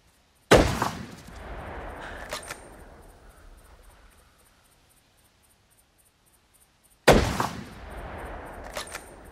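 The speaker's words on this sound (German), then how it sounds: "Bei mir ist eine Rotte Zeug unterm Hochsitz. Sind schon ein Stück, ich schieße jetzt mal rein." Two loud rifle shots fired into a herd of wild boar in The Hunter 2015 hunting game, several seconds apart, each with a sharp crack and a decaying echo, with quiet ambience between.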